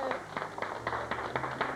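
Brief light clapping from a small group cheering the Blue team at a French-language game show, a handful of quick claps over a faint murmur of voices.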